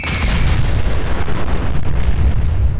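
A mini nuke launcher in Fallout 4 firing a volley of twelve mini nukes, a loud continuous roar of overlapping explosions and booming rumble that fills the whole stretch without letup.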